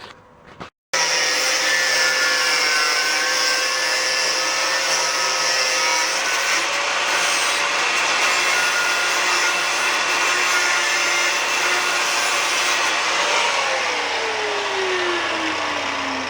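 Power cutting tool slicing through a car exhaust pipe, a loud continuous grinding whine that holds steady for about fifteen seconds with slight pitch shifts near the end, close up and alone.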